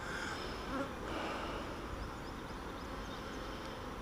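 Honey bees buzz inside an apiary hive, a steady close-up drone with individual insects flitting past, continuous and moderately quiet with no talking.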